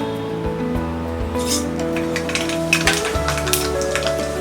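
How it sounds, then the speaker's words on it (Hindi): Mustard seeds sizzling in hot oil, a soft continuous fizz that grows busier with crackling pops toward the end, over a low steady hum. "तेल गरम हो गया है। अब हम इसमें डालेंगे ये राई"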